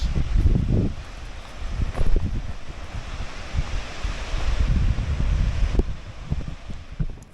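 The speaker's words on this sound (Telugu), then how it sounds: "అటువంటి అదిగోండి వాటర్ ఫాల్స్" Steady broadband rushing water of a waterfall at Savaliya Ghat roars throughout, with low rumbling gusts and buffeting like wind on the microphone.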